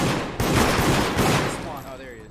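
Rapid bursts of gunfire in the video game Deceit ring out loud and close in dense, overlapping volleys, with a voice speaking over the shooting.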